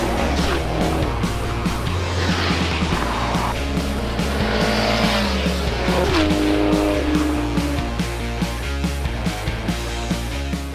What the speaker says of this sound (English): we need to get Sean and Matthew and Naeem to drive the car to get used to it